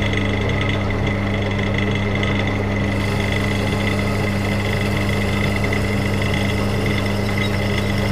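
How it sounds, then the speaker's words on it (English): A wood lathe spinning a pen blank, a steady mechanical hum with a constant droning tone and a slight rise in brightness partway through, close by with no speech. "so I've got my first blank in the lathe"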